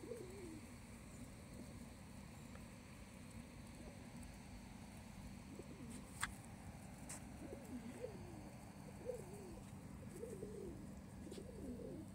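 Pigeons cooing outdoors in Padua city, Italy on an early morning, several soft overlapping coos at moderate distance over low ambient hum, with occasional sharp clicks.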